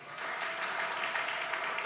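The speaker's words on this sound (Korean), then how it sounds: "설거지 수고 많은데 박수." A Korean Sunday worship congregation breaks into brief, steady applause for the volunteers who did the dishwashing, dense clapping filling the room with no voices over it.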